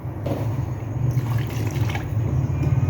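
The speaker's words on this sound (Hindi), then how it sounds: "अब हमने इसके अंदर पानी डाल दिया है।" Water is poured into a pan of cooking tomatoes, giving a steady close splashing and gurgling stream that runs the whole time with no talk.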